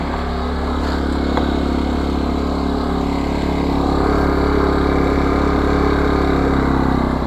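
A Champion CEM1500iS portable silent 1100W generator runs with its engine speed turned down. Its close, loud, steady drone hums continuously with no breaks.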